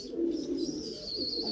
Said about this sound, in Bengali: এটা মাদি পায়রা দেখতে পাচ্ছেন ফ্রেন্ড, খুব সুন্দর কোয়ালিটির পায়রা